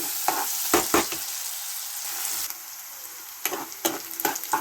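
Sliced onions and crushed garlic frying at medium heat in a pan for a pumpkin palya, a steady sizzle broken by a few scraping stirs, with no one speaking.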